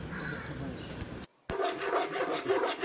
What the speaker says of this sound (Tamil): நான் காடி பண்ணுறதுக்காக கரெக்டாக வந்து பைப்பில் வந்து கட்டிங் பண்ணுறேன்